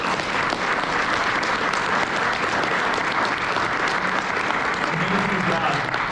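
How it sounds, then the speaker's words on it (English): An audience gives panelists a dense, sustained round of applause, steady and fairly loud throughout, with voices faintly mixed in toward the end. "Let's give a round of applause for our panelists."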